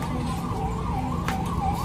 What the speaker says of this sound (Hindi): यहाँ पुलिस की गाड़ी घूम रही है